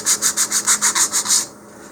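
Hand sanding rounds the edges of a model rocket part, a close, loud rhythmic rubbing of about nine even back-and-forth strokes, then a quieter tail.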